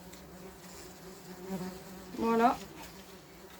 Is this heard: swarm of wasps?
yes